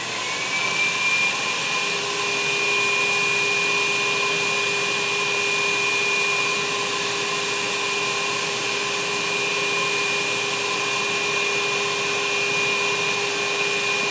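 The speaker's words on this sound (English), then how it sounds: "I'm just going to turn on my unit to pull the air out of the system" An FSI DAT2020S decon shower unit's pump runs steadily, drawing air out of the system through the suction hose: a loud, continuous motor drone with a high whine, uninterrupted and close by.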